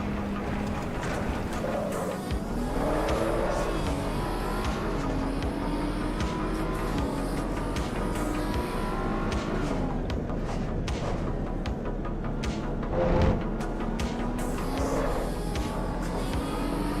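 Race cars lapping in Assetto Corsa EVO, a steady engine drone with shifting pitch and passing whooshes throughout, moderately loud and continuous, with a brief louder burst near the end and no talking.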